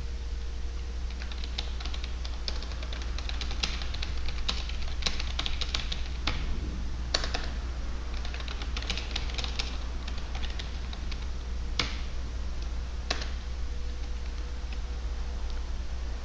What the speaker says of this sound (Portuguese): Vamos digitar algum texto.